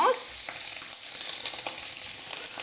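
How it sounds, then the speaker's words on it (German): Steady crackling sizzle of ham frying in butter in a hot pan, continuous and close, with faint clinks and stirring sounds. "mit der Butter in die Pfanne. Und dann werden wir den Schinken anbraten."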